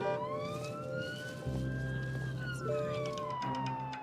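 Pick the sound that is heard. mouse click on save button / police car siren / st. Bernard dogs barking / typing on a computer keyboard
police car siren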